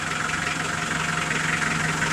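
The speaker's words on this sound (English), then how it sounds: "if I lever it out, just revs, no drive" A BMC engine, freshly swapped in, runs steadily in neutral with a constant low hum and faint mechanical ticking, fairly quiet and even.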